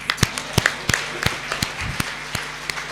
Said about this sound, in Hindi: तालियां इसलिए बजवा रहा हूँ क्योंकि बाद में भरोसा नहीं है